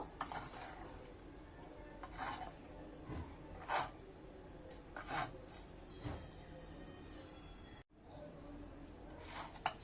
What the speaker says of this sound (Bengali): সব কিছু দিয়ে একবার খুব হালকাভাবে মিশিয়ে নেব।